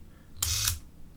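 Shutter mechanism of a Minolta XL-400 Super 8 camera runs in one short mechanical whir of about half a second, close and fairly loud, with silence on either side.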